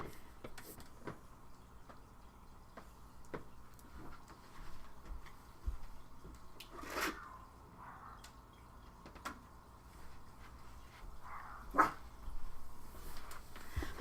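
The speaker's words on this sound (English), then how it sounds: "I don't know if you can hear my dogs barking" Pet dogs in a home bark in scattered short bursts, fairly distant and faint, over a quiet indoor background with occasional small clicks.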